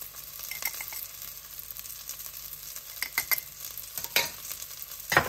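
Turmeric and salt stirred into food in a frying pan, with a spoon scraping and clinking close up over a constant soft sizzle, and a few sharper taps near the end.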